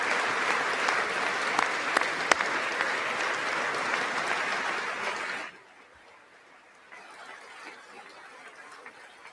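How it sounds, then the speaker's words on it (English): A large audience stands and claps in a long, dense, steady wave of applause that cuts off sharply, leaving a quiet room behind. "they tired as hell standing up and clapping for so goddamn long"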